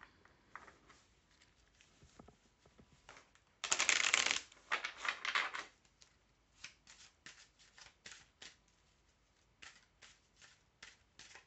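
Oracle cards shuffled by hand during a tarot-style reading, a loud riffling burst followed by a run of softer, rhythmic card flicks and taps, close and alone with no talk.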